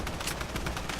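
Rapid gunfire from a sniper rifle in a video game, loud bursts of shots in quick succession filling the whole moment without any talk.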